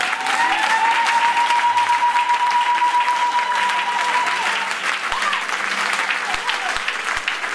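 A church congregation breaks into sustained applause during a sermon, dense clapping up close, with a long held vocal tone over it early on.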